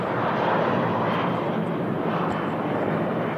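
Jet airliner taking off on a test flight at Manchester Airport, a steady broad engine roar that stays loud and sustained throughout, heard from a distance with no talk.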